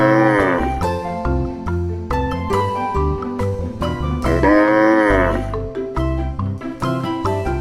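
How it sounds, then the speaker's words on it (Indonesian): A cow moos in long, drawn-out calls set over a bouncy music bed, each call loud and close. "Hewan yang punya banyak manfaat ini namanya sapi."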